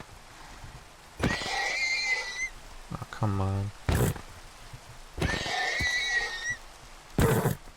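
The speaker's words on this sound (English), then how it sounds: "Hey, some horses. Quite a bit of horses." Horses in the video game Minecraft neigh twice, each a loud, shaky whinny lasting about a second, separated by brief talk and game sounds.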